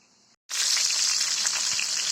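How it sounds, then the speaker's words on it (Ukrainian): Pork belly sizzling and crackling loudly in hot fat in a cauldron over an open fire, a steady close frying hiss after a brief quieter moment at the start. "Грудинка смажиться гарно"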